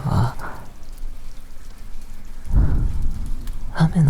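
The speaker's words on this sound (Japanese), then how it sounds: "雨の音を聞いて、" Steady, close rain pattering in a binaural ASMR sleep recording made with a KU100 dummy head, a continuous dense hiss with heavier gusts, and a soft voice briefly at the start and end.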